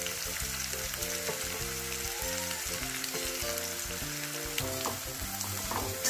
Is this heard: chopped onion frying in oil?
yes